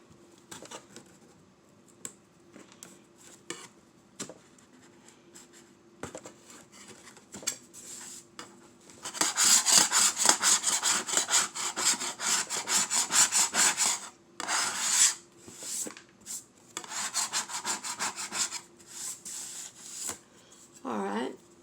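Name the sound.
scraper scraping off wood surface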